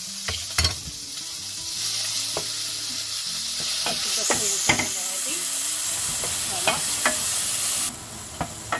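Garlic frying in a pan sizzles steadily and loudly at close range, with repeated sharp scrapes and knocks of stirring over the constant hiss.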